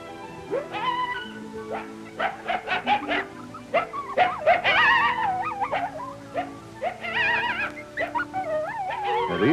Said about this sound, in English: lesson one is yelps, barks, and howls